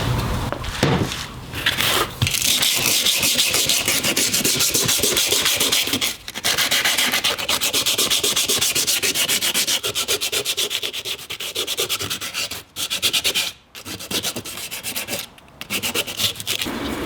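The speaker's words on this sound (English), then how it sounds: "I'll go over it with a piece of sandpaper" An MGB rear axle sanded by hand with sandpaper, a loud, close, continuous rasping rub with rapid back-and-forth strokes and a few brief pauses.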